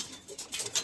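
Gola pigeons in Kanpur give soft, low coos amid faint rustling and flapping, quiet and close.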